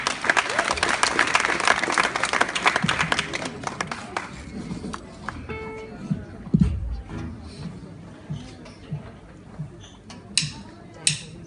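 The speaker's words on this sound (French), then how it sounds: "on peut applaudir encore" Applause from an audience at a student rock music show starts strong and dense, then thins within a few seconds into scattered claps, shuffling and faint background sounds.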